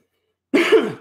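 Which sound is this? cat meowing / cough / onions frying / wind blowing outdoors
cough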